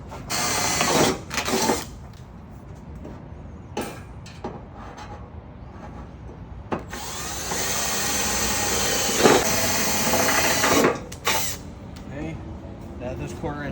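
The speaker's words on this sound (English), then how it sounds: "Those 1/4-inch holes are drilled." A power drill bores 1/4-inch holes into a wall for anchors while installing a commercial door frame, running in a couple of short bursts and then a longer sustained whine, with a person talking at times.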